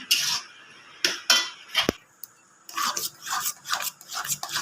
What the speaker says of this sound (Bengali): আঁচটা কমিয়ে রেখে এভাবে আমি একটু ঘাঁটতে থাকবো।